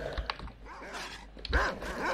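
Dogs in S.T.A.L.K.E.R.: Call of Pripyat with the Misery mod bark and growl close by, a few short snarling yelps over a faint background, alone without speech.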